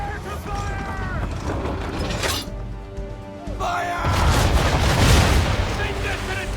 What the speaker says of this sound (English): all guns at her bow and do as much damage as possible.